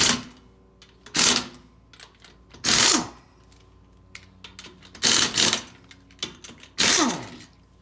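Loud, close bursts of a power tool breaking loose the lug nuts on the rear wheel of a 2007 Range Rover Sport Supercharged, about five short whirring, rattling bursts separated by quieter gaps, with no talk.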